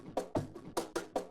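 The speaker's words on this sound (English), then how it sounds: "I chopped up this drum loop to make like a little like drum fill" A chopped-up drum loop rearranged into a short drum fill, with about six quick punchy hits in a tight stuttering rhythm lasting just over a second.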